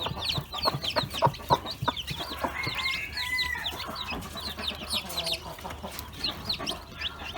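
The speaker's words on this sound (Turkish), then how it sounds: "Bakın civcivler kendileri geliyorlar." A Gurk hen clucks softly among a brood of chicks cheeping in rapid, high overlapping peeps, close by and continuous, with occasional louder calls standing out.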